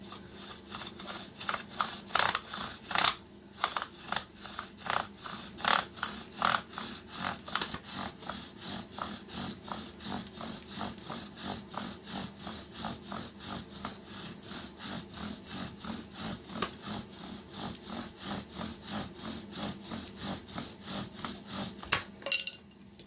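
A thin spindle on a coastal bow drill rasps against a wooden hearth block in steady back-and-forth strokes, a rhythmic sawing friction that runs on without pause and sits close and fairly quiet.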